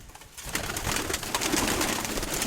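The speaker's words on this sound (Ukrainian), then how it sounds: "Це голуб, який в мене залетів разом із кремачкою" Pigeons coo softly amid a dense, noisy background with rustling and fluttering, close by, no talking.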